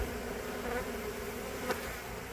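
A mass of honeybees hums steadily inside a shed in Lakeland, Florida during a hive removal, a dense, continuous buzz close by with no talking.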